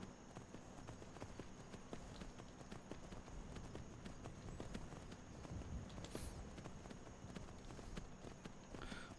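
Horse hooves clip-clop in a video game, a quick, even walking rhythm that carries on throughout at a low, soft level.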